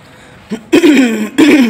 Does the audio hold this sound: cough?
yes